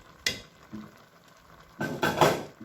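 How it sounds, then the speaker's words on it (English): Bonga fish dropped into a pot of simmering Cameroonian eru: a sharp clatter, a pause, then a louder stretch of splashing and scraping as the pot is stirred, close and with no voice. "now I'm putting in my bonga fish"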